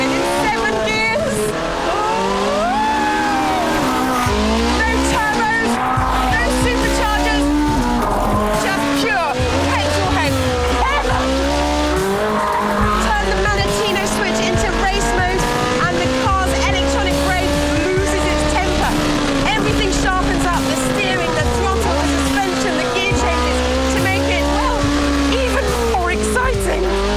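A Ferrari 458 Spider with a 9,000-rpm engine of nearly 550 brake horsepower drives at speed. The engine wails loudly and steadily, its pitch rising and falling through gear changes, while a voice talks over it.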